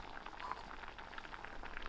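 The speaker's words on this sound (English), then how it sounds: "I will allow this to boil till it's soft." Butternut squash boils in a pot of salted water, giving a steady, close bubbling and hissing that holds at an even level the whole time with no voices.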